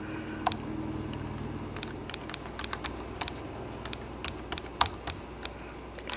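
Keys clatter in an irregular, uneven rhythm, with pauses between bursts, as someone types slowly with one hand on the small keyboard of an Atari Portfolio portable computer nearby.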